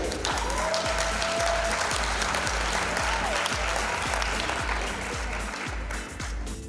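An audience applauds awardee Noel Bailey at an award ceremony, a loud, sustained round of dense clapping that runs steadily throughout with no talk over it.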